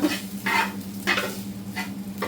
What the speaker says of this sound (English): I'm about ready to mix this egg in with the rest of the rice now and just stir it all in together